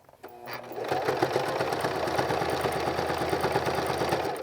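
A sewing machine stitches fabric close to a cut edge, starting up quickly and then running in a steady, close, rhythmic whir.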